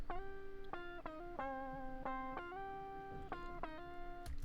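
A riff on a DI electric guitar with a pitch effect and the top end rolled off for a rounder, neck-pickup character: steady sustained notes shifting pitch in a quick repeating pattern, close and alone.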